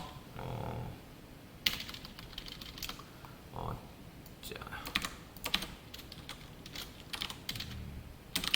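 Typing HTML code on a computer keyboard, bursts of quick close key clicks with pauses between them, fairly quiet, with brief low murmurs of a voice in the gaps.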